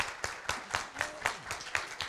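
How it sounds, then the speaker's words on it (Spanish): A small audience claps in a faint, steady rhythm at a university film club's screening and book launch, with about eight evenly spaced claps over two seconds. "Y quería terminar justamente con un aplauso para Cristóbal, de agradecimiento por estar aquí."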